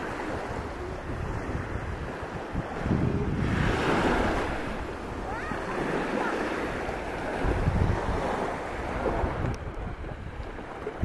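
Surf rolling onto a Cretan Sea beach at Rethymno, swelling and receding in a few broad washes mixed with wind buffeting the microphone, moderately loud and without speech.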